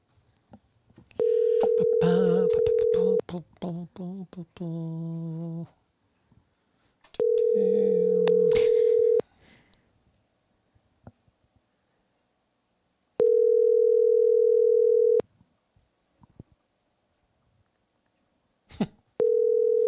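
Telephone ringback tone while placing a call, sounding as repeated steady tone bursts of about two seconds separated by pauses, with faint voices and line noise between the first few bursts.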